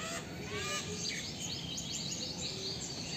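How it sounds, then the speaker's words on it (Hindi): Myna birds call from inside a dense tree, a busy overlapping chorus of whistles, chirps and squawks, steady and moderately close, over a constant background wash. "वहाँ पे एक मैना दिखाई दे रहा है, कितना सुंदर आवाज़ें हैं।"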